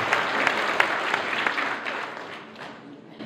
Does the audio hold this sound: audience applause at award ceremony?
yes